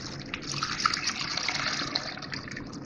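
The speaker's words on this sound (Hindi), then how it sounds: "और इसमें पानी डाल रही हूँ।" Water splashes and gurgles steadily into a cooking pot holding garlic, ginger and onion paste for beef paya, close and continuous, with no voices.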